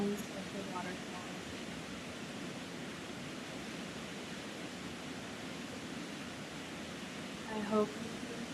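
Waterfall in the Catskills heard as a steady, soft broadband rush of falling water, distant and even throughout, with a brief faint thump near the end.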